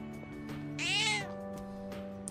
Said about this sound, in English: Familiar looking cat.